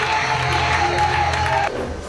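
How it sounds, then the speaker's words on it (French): Wedding guests at a religious marriage ceremony applaud and cheer for the groom, a dense sustained crowd roar with clapping that drops off suddenly near the end. "Applaudissons encore mes frères et tous."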